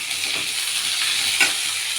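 Onions and green chilies fry in a pan for palak rice, and tomatoes go in too, making a steady close sizzling hiss with a faint stir.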